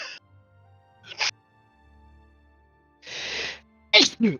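A single sharp sneeze bursts out near the end after a quiet stretch with a couple of soft breathy sounds.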